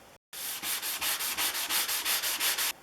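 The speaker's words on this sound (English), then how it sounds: "take this old worn out sanding sponge and I'm going to hit it with that" An old worn sanding sponge rubs back and forth across a Stanley No. 60 low angle block plane in quick, even strokes, about a dozen rhythmic scrapes close up after a brief pause.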